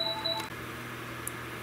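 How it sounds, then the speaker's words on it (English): A mobile phone rings with a few short electronic tones in the first half-second, faint over a steady low hum on a workbench where a 27-inch Neotec NT-2701 arcade monitor chassis with a ticking fault sits open for repair. "My phone rang"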